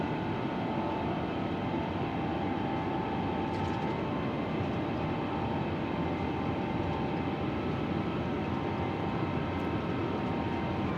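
Jet engines of a Qatar Airways Airbus A350-1000 airliner on its takeoff roll at Los Angeles in Microsoft Flight Simulator, a loud continuous broadband roar holding steady for the whole stretch.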